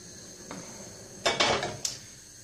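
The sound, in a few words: frying pan being put on the stove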